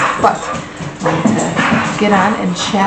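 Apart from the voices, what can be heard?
dogs barking and whimpering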